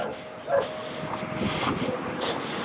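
A dog outdoors gives a few short, thin yips and barks scattered across a couple of seconds, fairly distant amid ambient background noise.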